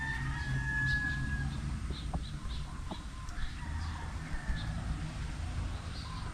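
Chickens cluck and call at a distance over a low rumbling outdoor background, with a faint crow-like call drawn out among them.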